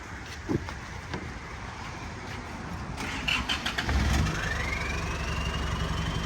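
Engine of an old Isuzu D-Max pickup running, with the motor's steady drone throughout and a rising tone plus a louder burst near the middle, heard close up with no talking.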